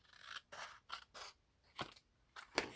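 Scissors snip through paper backed with a book page in a craft setting, several distinct cuts in short bursts with pauses between, close and clear with no talking.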